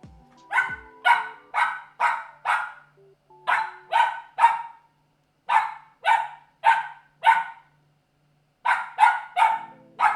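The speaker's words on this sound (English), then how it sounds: "What are we barking about?" A pet dog barks in repeated bursts of three to five sharp barks separated by short pauses, loud and close indoors, with no talking.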